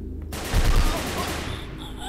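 Bursts of gunfire in the video game Heat Guardian, a quick cluster of sharp shots followed by lingering echoing rumble.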